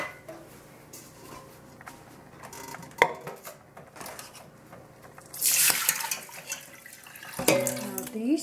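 Rice-washing water is poured from a pot and collected in a kitchen, a splashing rush in the middle after quiet clinks of dishes and a sharp knock, with a voice speaking briefly.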